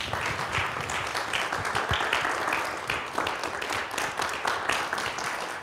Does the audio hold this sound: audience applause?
yes